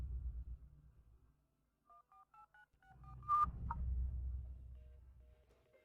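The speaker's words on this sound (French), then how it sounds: "Je peux essayer de l'appeler avec mon téléphone si tu veux." A phone is dialed to call someone: a quiet run of short, evenly spaced keypad tones, then a brief ring-like tone under a low rumbling background.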